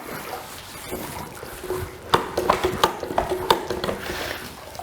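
A mop is loaded with water from a bucket in a garage, giving a quiet start followed by a run of close sloshing, splashing and dripping bursts.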